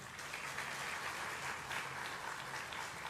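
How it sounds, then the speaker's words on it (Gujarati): An audience applauds at a Gujarati religious gathering, a steady, even wash of many hands clapping throughout, with no voices standing out. "એકવાર ખૂબ તાળીઓના નાદ સાથે"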